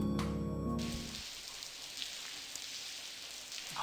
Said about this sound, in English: Oh, rain effects.